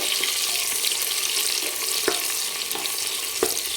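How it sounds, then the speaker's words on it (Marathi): Two large sliced onions frying in oil for mutton biryani, a close steady sizzle with occasional stirring scrapes. "कांदे ते टाकून घेऊ आणि चांगलं गुलाबी झाला पाहिजे कांदा असा आपण हा तळून घेणार आहे"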